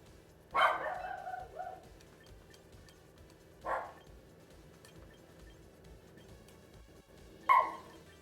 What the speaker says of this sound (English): make his dog go stop barking